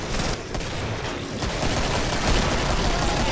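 Gunfire in the video game Killing Floor, a dense burst of loud, overlapping shots filling the short span with no talking.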